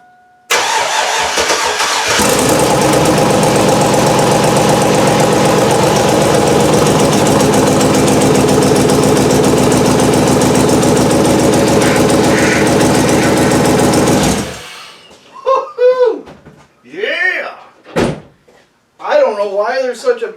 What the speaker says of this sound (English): I am so happy to hear that engine run.